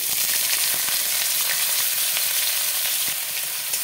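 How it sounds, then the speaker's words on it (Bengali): Chopped onion frying in hot mustard oil with nigella seeds: a loud, continuous bright sizzle with crackling pops, close and steady, no voices. "পেঁয়াজটা একটু লাল লাল করে ভাজবো।"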